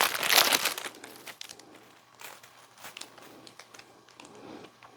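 Artificial ferns are pulled free from crinkly plastic packaging, a close, loud crackling and rustling in irregular bursts, strongest at the start, with no talk.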